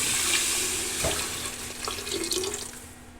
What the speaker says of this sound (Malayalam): ആവശ്യത്തിന് കുറച്ച് വെള്ളം ഒഴിച്ച് കൊടുക്കുക നമ്മൾ.